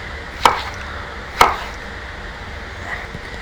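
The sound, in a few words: knife cutting peppers into large sections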